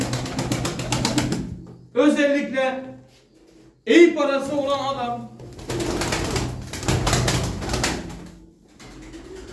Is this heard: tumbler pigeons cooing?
yes